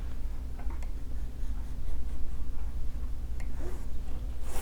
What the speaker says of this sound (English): Now you can use a ruler and just draw a diagonal line right there.